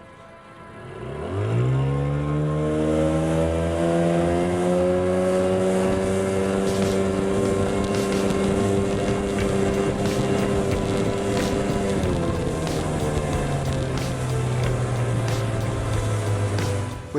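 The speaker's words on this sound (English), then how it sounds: "we'll start off our test with the lowest trim setting on the motor" A boat driven by a 15 horsepower outboard motor runs at speed with its lowest trim setting, a loud steady engine drone holding one pitch after a quick rise, then dropping lower near the end, with wind and water noise and no talk.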